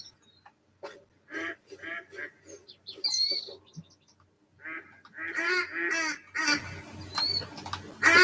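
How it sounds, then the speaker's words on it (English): Ducks flying or paddling past outdoors, with a string of scattered quacks and honking calls that builds into a louder, denser chorus toward the end, fairly close and with no speech. "There's two lots of ducks gone past me."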